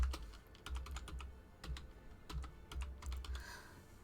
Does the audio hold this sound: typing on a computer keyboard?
yes